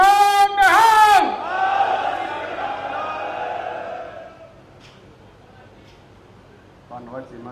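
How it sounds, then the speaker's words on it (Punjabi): Crowd at an Akali Dal press conference roars back a Sikh jakara war cry, a loud massed shout with a rising call that fades into murmuring and a few distant voices. "ਹੁਣ ਫੇਰ ਮੈਂ ਜਕਾਰਾ ਲਾਉਣਾ ਦੋਵੇਂ ਹੱਥ ਖੜੇ ਕਰਕੇ"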